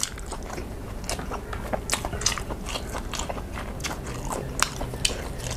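Crisp crunchy bites into fresh eggplant picked straight from the plant, a steady series of close, moist crunches and chewing sounds, fairly loud, with no talking.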